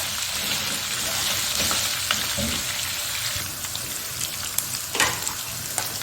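Mutton frying in a karahi pan for mutton karahi, a steady broadband sizzle running throughout with occasional scraping stirs and small pops, fairly close and unbroken by talk.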